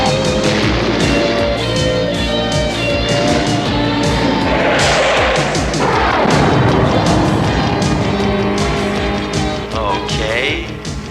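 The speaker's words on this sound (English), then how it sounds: "Laser cannon. Fire." Laser cannon fire blasts through a busy action scene in the animated series M.A.S.K., loud and dense, with zaps and booms layered over a rumbling, engine-like soundtrack.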